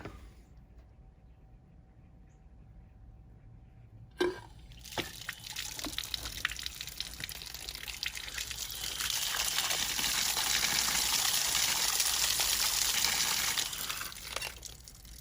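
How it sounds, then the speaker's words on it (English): An outdoor sillcock faucet with its valve set about eight inches inside the wall sputters and then runs as the water is turned back on. It starts with a few spits and builds into a steady close rushing flow. "I'm gonna go turn the water back on and we'll see if it works."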